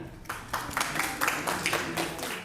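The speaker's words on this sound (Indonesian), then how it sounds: "Tepuk tangan." A class in a Catholic religion lesson applauding, with a short round of clapping from several people that starts after a brief pause and rises and falls for about two seconds.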